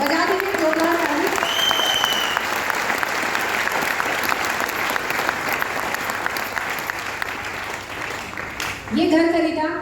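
An audience at a success seminar in ITO, Delhi, breaks into loud, sustained clapping that fills the room, with voices speaking at the start and again at the end.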